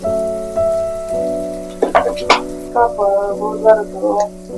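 Mango rice ingredients fry in a pan, giving a soft, scattered sizzling crackle in irregular bursts beneath a steady droning tonal hum.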